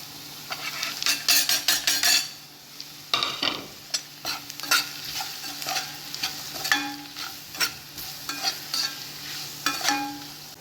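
Onions and spices fry for Punjabi kadhi with a steady sizzle under repeated scraping and stirring strokes of a utensil against the pan, close and fairly loud, without talk.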